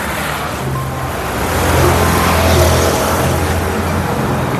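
A Honda City 2014 car sets off and drives away, its engine a steady low hum that swells briefly and then holds, loud and close with no talk.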